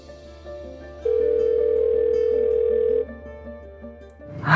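Telephone ringing tone on an unanswered call, a steady electronic tone holding for about two seconds over a quiet background, followed by a rising noise at the end.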